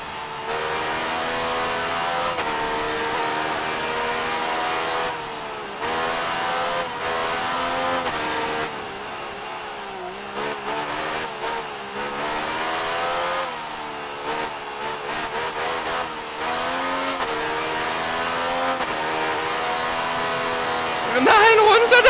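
A Yamaha racing motorcycle in the video game Ride 3 drones and revs continuously, its engine note rising and falling through gear changes. Someone talks over the engine for most of the clip.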